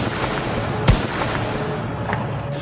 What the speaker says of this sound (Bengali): আবারও গুলির শব্দ।